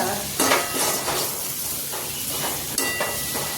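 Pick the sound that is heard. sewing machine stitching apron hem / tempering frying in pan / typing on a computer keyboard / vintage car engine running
tempering frying in pan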